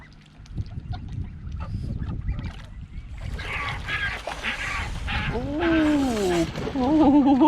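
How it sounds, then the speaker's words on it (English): Swans and their cygnets hiss at geese beside a marina boat, giving harsh, breathy hisses up close, with honking calls rising over the noise near the end. "Even the babies are hissing at the geese."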